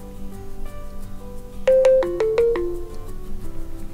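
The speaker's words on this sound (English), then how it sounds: "that ringtone will come up" A custom ringtone playing on a OnePlus 3T phone: a short bright melody of about six quick chiming notes, loud and close over a low background hum.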